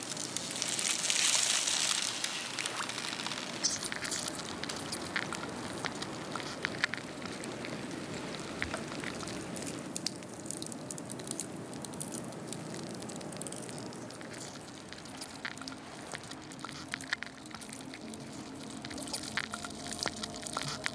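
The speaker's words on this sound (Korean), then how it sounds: "그 기포가 터지는 소리가 들립니다" Compressed Antarctic glacier ice crackles and fizzes as tiny trapped air bubbles pop, a quiet, continuous sparkling patter heard up close with no voices.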